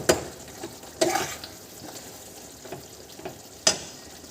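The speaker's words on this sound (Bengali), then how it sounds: "দিয়ে আবারও কষিয়ে নেবো সুন্দর করে" Cashew, raisin and poppy seed paste frying with mushroom masala in a pan, a soft steady sizzle broken by several sharp scraping stirs, close and alone.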